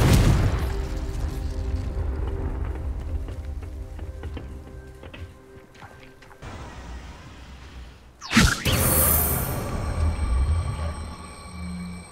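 A Confringo explosive spell blast in the Hogwarts Legacy video game, heard as a sudden whooshing boom that cuts through the game's rumbling music and ambience, then a loud burst of effects rings on.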